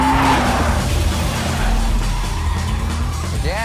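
A car drifting in a racing video game: a loud engine drone with long, wavering tire squeals and skids, and a rising squeal swelling sharply at the very end.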